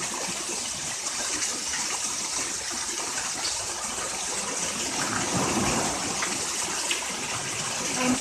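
Steady broadband rush of a waterfall at Sipora Utara, with people bathing nearby, continuous and fairly loud throughout with faint background activity.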